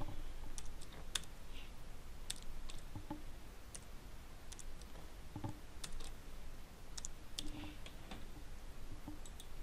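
A transaction password is typed on a computer keyboard, giving a steady run of quiet, closely spaced key clicks for about ten seconds with no one speaking.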